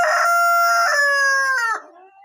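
An adult Columbian Light Brahma rooster crows once, close and loud. The call is a long, drawn-out cock-a-doodle-doo that trails off sharply at the end, with no voices around it.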